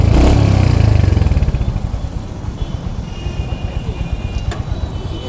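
A Royal Enfield Hunter 350 motorcycle engine starts loud, then settles into a steady, close thumping idle with an even rhythmic pulse.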